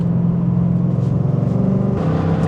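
A Mercedes C63 AMG engine rumbles steadily and loud from inside the car, a deep continuous low drone with slight swells, no voices over it.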